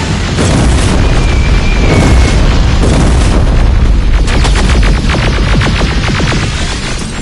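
A rocket blast in the shooter game Terminator Resistance: a loud, dense boom with rumbling debris and crackling fire that continues for several seconds, with a rapid stutter of bursts toward the end.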